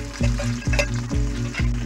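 Cumin seeds and green chili in hot oil, sizzling steadily with a few rhythmic spatula knocks against the pan, close and fairly loud.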